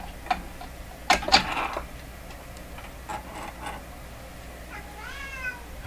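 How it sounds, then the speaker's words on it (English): Two cats meowing outdoors, heard fairly faint and distant, with a couple of sharp cries early on and a drawn-out wavering meow later, over a quiet background with soft ticking. "I hear two cats outside."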